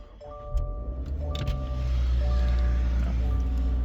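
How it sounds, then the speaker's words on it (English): A 2024 Subaru Impreza 2.5 RS fires up by push button inside the cabin: a soft electronic tone, then a low engine rumble swells and settles into a steady idle. "Push button start, my foot's on the brake, the light goes green"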